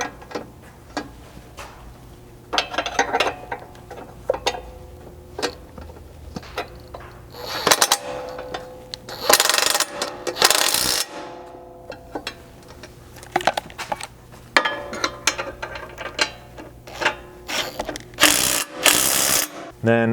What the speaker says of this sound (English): So I'm going to start by tightening the nuts down here on the strut mount.